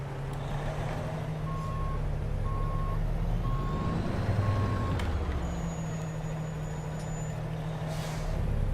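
In American Truck Simulator, a truck's reversing alarm beeps four times at an even pace over a steady engine idle, followed by a brief engine swell and a hiss like an air brake.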